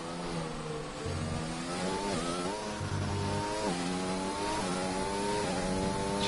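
A race car in a Formula C racing video game is driven hard through corners, its engine screaming in long sustained notes that dip sharply on downshifts and climb again as it accelerates out, loud and close with no talking.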